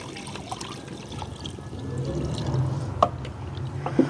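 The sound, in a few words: 2.5 litres of water poured into pot for chicken yakhni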